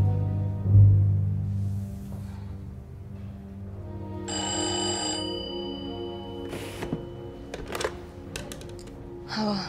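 A telephone rings in an indoor room, its bell sounding in a few bursts with gaps between them and some clatter around it, all heard alone without talk.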